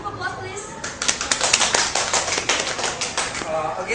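An audience in a classroom gives a round of applause for a student presenter, with light, quick claps building in the middle and tapering off, close and moderately loud.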